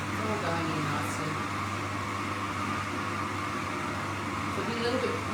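A Magimix Cook Expert food processor runs at speed with a steady, loud, continuous motor whir and a low hum throughout, and a voice may be talking over it.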